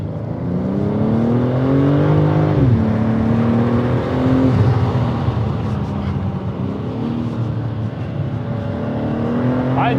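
BMW M3 Competition engine revving hard and accelerating, a loud continuous roar with rising and falling harmonic sweeps as it climbs through gears, close and dominant throughout.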